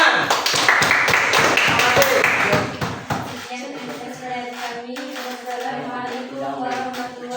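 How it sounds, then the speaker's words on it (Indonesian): Classroom of students clapping after a group presentation, a dense burst of applause lasting about three seconds, followed by chatter and a voice speaking. "Ya, tepuk tangan."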